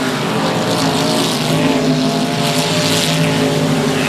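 Race cars roar around a dirt speedway oval, engines droning loud and steady for several seconds as the pack works through traffic, a continuous layered engine howl with no break.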